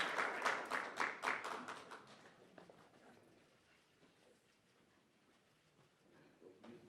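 Applause at a ministerial swearing-in ceremony, a short burst of hand clapping from a gathered audience that fades quickly into a quiet room murmur.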